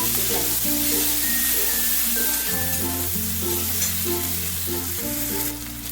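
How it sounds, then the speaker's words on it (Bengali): Chopped medium onion with nigella seeds frying in hot oil, giving a steady, close sizzle that runs the whole time beneath loud background music. "পেঁয়াজটাকে একটু ভেজে নিলাম"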